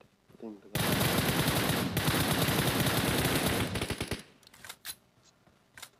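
Sustained automatic gunfire rattles loudly for about three seconds in a PUBG match, followed by scattered single shots and bursts as the firing tapers off.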